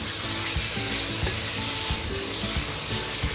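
Chicken pieces frying in a pan give a steady, loud sizzle while being stirred, with scraping stir strokes thumping at irregular intervals.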